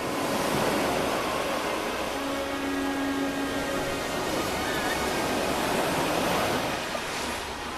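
Ocean surf breaking steadily on a beach, a continuous loud roar of waves and foam with no pauses, close to the shore.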